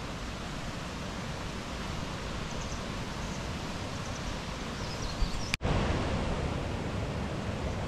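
Rushing waterfall heard as a steady, loud broadband roar of falling water, continuous and close, with a brief sharp click partway through and no voices.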